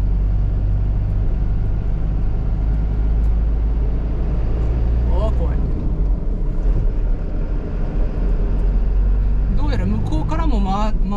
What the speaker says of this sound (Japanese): うわ、あの車えらい真ん中から突っ込んでくるな。